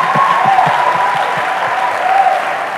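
A church congregation applauds steadily throughout, dense and sustained clapping with a continuous crowd wash, fairly loud and close, with no talk over it.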